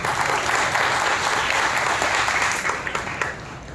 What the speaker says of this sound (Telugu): బిగ్గరగా చప్పట్లు కొట్టి ప్రభువును భయపరచాలి